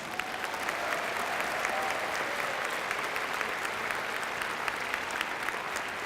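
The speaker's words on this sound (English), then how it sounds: "let's give them a nice round of applause" A large crowd at a Special Olympics opening ceremony claps for cheerleaders and volunteers, a steady, even wash of applause heard at a moderate distance throughout, without a break.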